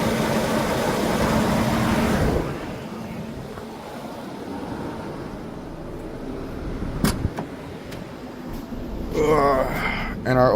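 A car engine idles with a faulty oil pressure sensor, a low steady hum that is strongest at first and then fades into a quieter rumble, with a few clicks and a later burst of noise.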